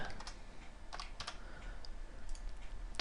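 Keys on a computer keyboard are tapped in a few quick scattered bursts, entering code in a C# console program, fairly close and quiet over a low background hiss with no voices.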